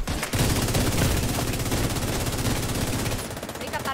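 Sustained rapid rifle fire in the Dark Zones shooter game, a dense loud burst running nearly four seconds before cutting off, with a voice faintly under it.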